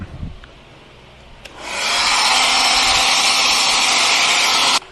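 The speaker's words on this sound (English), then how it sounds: "so I'm going to hit it with a hairdryer" A hair dryer switches on after a couple of faint clicks, blowing with a steady, loud whirring rush for several seconds before cutting off abruptly.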